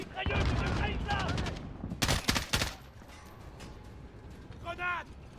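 Modern Warfare 2019 gunfire: rapid machine-gun bursts and single shots in the game, loud and close, mixed with urgent shouting voices.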